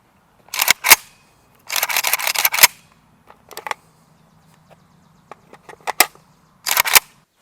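AK-74 rifle (SGL 31) firing outdoors, sharp loud shots in a few quick doubles and short strings with pauses between, near and without talk.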